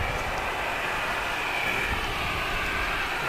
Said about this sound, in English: Here's a Qantas Boeing 737-800.